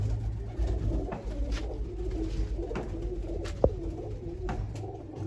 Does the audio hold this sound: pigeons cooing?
yes